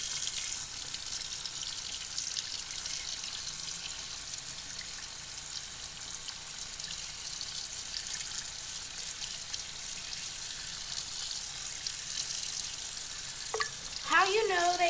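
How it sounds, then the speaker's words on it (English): Tap water runs steadily into a sink while a paintbrush is rinsed under the stream, a continuous close hiss with a brief sharper sound near the end. "all you have to do is put the water on and do the same thing while it's under the water"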